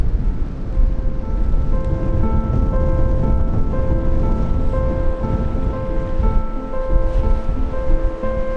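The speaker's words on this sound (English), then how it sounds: "It's starting to rain." Steady rain and wind wash over the coast with surf roaring continuously, a dense loud hiss with soft music running underneath throughout.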